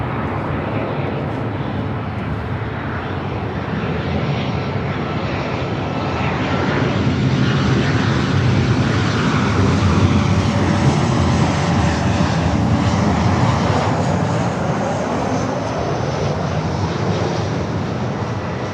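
Boeing 737 jet airliner arriving at LAX, a steady broadband engine roar that swells slightly midway and holds loud and continuous throughout, with no talk over it.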